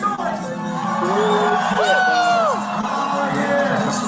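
Crowd at a live show cheering, whooping and shouting, a loud and dense roar with rising and falling yells cutting through over about four seconds.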